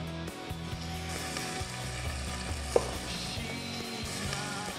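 Onions sizzle in a pot for an onion brulee after ribs have been fried off for a Bicol Express stock, a soft continuous frying hiss under background music with one brief clink.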